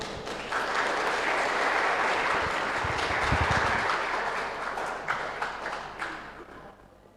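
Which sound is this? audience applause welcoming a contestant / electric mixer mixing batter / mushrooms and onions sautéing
audience applause welcoming a contestant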